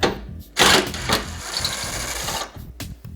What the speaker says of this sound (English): Then we're going to take a 10mm and remove this bolt right here in the core support.